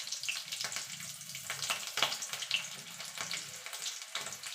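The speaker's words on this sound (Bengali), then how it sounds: "এবার ফোড়নটা একটুখানি ভালো ভাজা করে নেব।" A tempering of nigella seeds and green chilies frying in oil, a steady close sizzle with scattered pops and crackles throughout, no voices.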